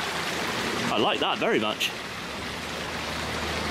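A small river flows steadily under a little bridge, a constant broadband rush throughout, with a brief spoken remark over it near the start.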